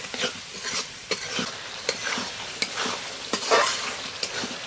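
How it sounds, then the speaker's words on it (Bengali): Potato curry masala with sour yogurt being stir-fried in a pan, a steady sizzle broken by repeated sharp spatula scrapes and knocks against the metal, close and fairly loud, with no talking. "টক দই দিয়ে ভালো করে কষতে নিতে হবে।"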